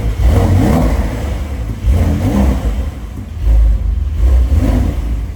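Porsche 911 Dakar of the 992 generation revving loudly nearby in deep snow, its engine note swelling in repeated surges and falling back between each of roughly four blips, with no talk over it.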